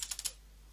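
Four quick keystrokes on a computer keyboard, light and close, evenly spaced clicks followed by quiet hum.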